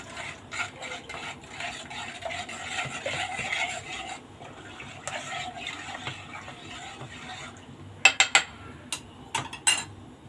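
A spoon scrapes and swirls around a metal pot, steadily stirring cold milk and starch, followed by a few sharp clinks of utensil against the rim.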